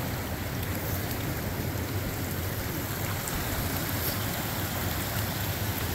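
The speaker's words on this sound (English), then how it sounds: "Clear and very cold creeks." A clear, very cold creek near Coffin Lakes rushes in a steady, unbroken wash of water noise, close by, with no voices.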